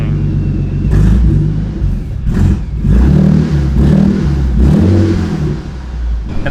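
A supercharged V6 Mustang on E85 with exhaust valves opened revs hard at close range, three or four loud deep throttle blips rising and falling over a rumbling idle.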